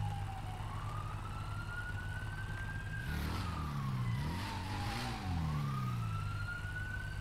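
Police car sirens in GTA 5 wail continuously, rising and falling in long sweeps over a steady low engine and traffic rumble, loud and close throughout.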